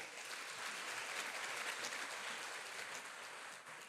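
A church congregation applauds, loud and sustained, in a steady wash of clapping that holds for several seconds without talk.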